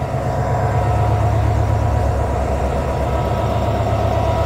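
Meter gauge 3000 series locomotive number 3013 running, a steady low engine drone with a constant mid hum, close and unbroken with no voices.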